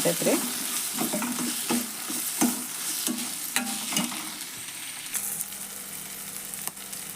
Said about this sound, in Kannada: ನೋಡ್ರಿ ಟೊಮೆಟೊ ಫ್ರೈ ಆಗಲಿ ಒಗ್ಗರಣೆ